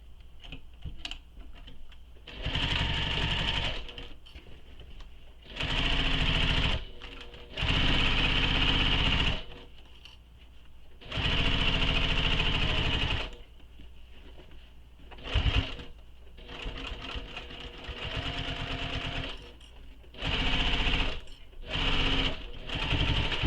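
A sewing machine fitted with a zipper foot sews a seam in repeated loud bursts of rapid stitching, separated by short quiet pauses with soft handling sounds.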